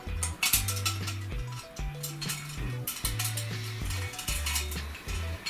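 A gas lamp (model L 637) is screwed onto its shutoff valve mechanism, producing close metallic scraping and ratcheting clicks in repeated turns over a low, stepped tonal hum, without speech.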